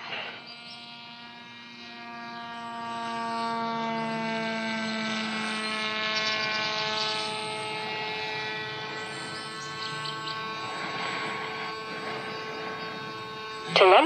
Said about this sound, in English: I'll bring it in for one more pass and then we'll come in for a landing.